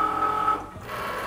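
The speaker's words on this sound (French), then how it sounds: "je viens charger mon tapis de découpe" A Cricut Maker cutting machine whirs and hums with a steady mechanical tone as it loads the cutting mat, then stops. The sound is brief and close.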